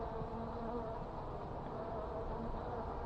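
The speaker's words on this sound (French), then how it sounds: "Elle bat des ailes et elle envoie des phéromones par là." Honeybees fanning their wings at the entrance of a newly installed hive in a garden, a continuous faint even hum of many wings with no voices over it.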